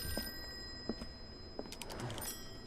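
A telephone rings in the Call of Cthulhu video game, giving a short cluster of rapid, bright ring bursts near the end, moderately loud over a quiet room tone.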